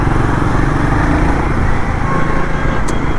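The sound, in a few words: Royal Enfield Guerrilla 450 motorcycle riding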